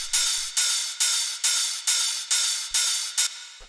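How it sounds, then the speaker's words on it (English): Big 909-style hard techno hi-hat sample, a bright hissy open hat struck about eight times in an even rhythm, each hit with a sharp attack and short decaying tail, loud and alone. "So this is your standard sort of like big 909 Hardtechno hi-hat."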